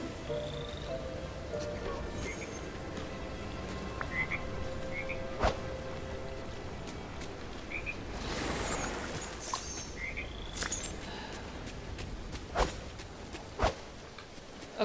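Frogs in the Disney Dreamlight Valley video game croak repeatedly in scattered short calls over quiet game ambience, with a faint footstep-like patter and occasional chirps mixed in.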